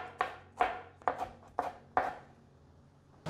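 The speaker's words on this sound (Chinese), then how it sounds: "芹菜叶子卷一卷， 来切" A knife chops rolled-up celery leaves into fine shreds on a board, five crisp, distinct strikes in an uneven rhythm, close and clear with no talking, followed by a short pause and the start of another cut.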